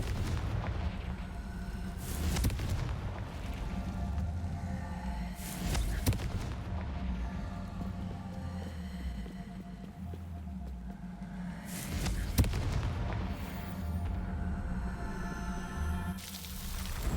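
Confringo spell blasts in Hogwarts Legacy go off as a few low, booming explosions spaced several seconds apart, with a rumbling game soundscape filling the gaps.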